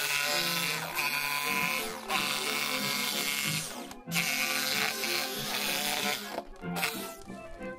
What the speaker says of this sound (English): Now that we've drilled a hole, we're gonna put the jigsaw blade in that hole.